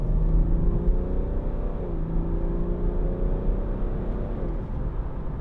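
A 2014 BMW 430d Gran Coupe with its 3.0-litre diesel accelerates hard up a dual carriageway. Heard from inside the cabin, the engine gives a steady low rumble that rises in pitch through two gear changes, with continuous road roar underneath.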